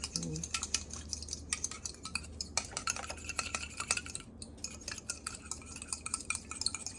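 Fast clinking of a utensil against a bowl while chili oil sauce for dim sum dumplings is whisked, a steady rapid scraping rattle, close and fairly quiet.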